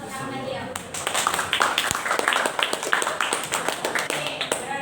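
A classroom of students claps together in a brief round of applause, sharp overlapping claps rising over a quiet room and continuing steadily for several seconds at close range.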